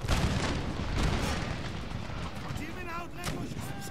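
Grenade and artillery blasts crack and boom repeatedly in an Empire: Total War battle, dense and loud throughout with rattling gunfire mixed in.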